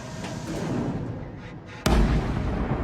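Naval guns of the battleship Yamato firing, a sudden heavy boom cutting through a loud rumbling background near the end, followed by a sustained roar.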